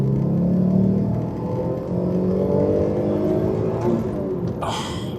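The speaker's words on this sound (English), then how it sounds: "The real thing is the oral magic of that 3-litre Busso V6." An Alfa Romeo GTV with a 3-litre Busso V6 runs close by, its engine note climbing through a smooth, rising rev and holding a steady growl, ending with a brief higher-pitched whirring burst.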